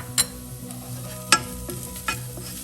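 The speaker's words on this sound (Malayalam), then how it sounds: "ഇനി നമുക്ക് ഇതൊരു ഗോൾഡൻ ബ്രൗൺ ആവുന്ന വരെ വഴറ്റി കൊടുക്കാം" Onions sauté in a pan with Kashmiri chilli powder under a soft, low sizzle, with three sharp spatula clanks against the pan and lighter scraping between them.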